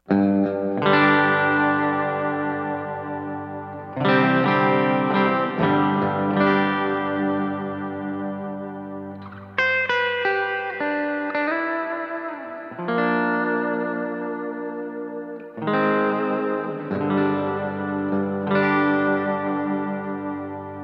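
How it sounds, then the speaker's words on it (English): Electric guitar through a Line 6 HX Effects hall reverb strums ringing chords and melodic notes that bloom into a long, spacious hall reverb tail, several phrases over about twenty seconds. "And here goes the hall reverb."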